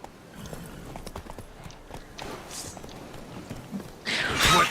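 Horse hooves clip-clop steadily as a cart is pulled along in The Witcher 3, the soft footfalls running under game ambience and a brief voice, ending in a louder burst.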